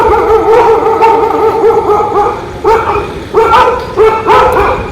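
Several dogs barking and yelping at night in a dark street, a continuous, overlapping chorus of close, loud barks with brief pauses between bursts.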